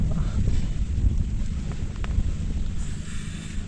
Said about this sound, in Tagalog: Napakatahimik, malakas hangin.